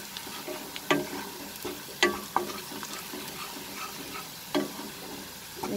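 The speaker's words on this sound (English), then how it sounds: "We'll mix it in the oil." Onions and ground spices (coriander, cumin, turmeric, Kashmiri red chili) frying in oil, a soft steady sizzle broken by several sharp scraping stirs of a spoon against the pan.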